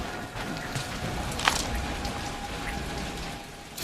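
Continuous rain falling on a surface in the video game Guardians of the Galaxy, a dense close patter with one brief sharper splash partway through.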